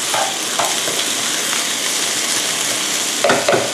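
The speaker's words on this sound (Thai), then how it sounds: "กระจายข้าวออกให้ทั่วกระทะนะคะเพื่อที่ จะได้สุกทั่วกันนะคะ" Rice sizzles and crackles in a hot wok, spread across the pan while making fried rice with naem (Thai fermented pork), with steady frying hiss and occasional scraping stirs of a utensil.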